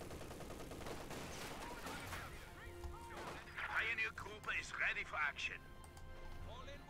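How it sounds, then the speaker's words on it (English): German MG-34 machine gun fire in Company of Heroes 2, rattling bursts and crackling gunfire in a busy battle mix, with a voice talking over it. "MG-34 here is going to begin opening fire"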